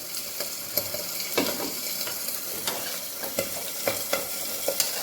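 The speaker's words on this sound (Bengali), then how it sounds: "প্রথমে পেঁয়াজগুলো ভেজে নিচ্ছে" Onions frying in a small amount of oil, a continuous close sizzle punctuated by regular scraping strokes as they are stirred in the pan, with no voices.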